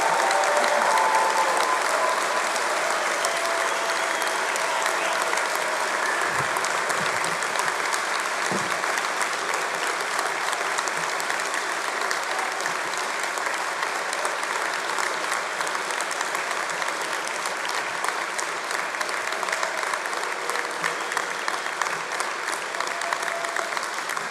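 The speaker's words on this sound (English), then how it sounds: "can we give these amazing individuals a fantastic round of applause?" An audience at a London university degree ceremony applauds steadily and loudly in a large hall, a dense, sustained wash of clapping that continues without pause for over twenty seconds.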